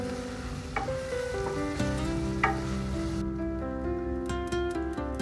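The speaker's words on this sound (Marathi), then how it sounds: "तेलातच अशी थोडीशी कोथंबीर अशी परतून घेतली ना फोडणीमध्ये" Coriander leaves tempered in hot oil for Rajasthani dal, a constant bright sizzle and crackle up close, with a tonal hum beneath and a few sharp clicks.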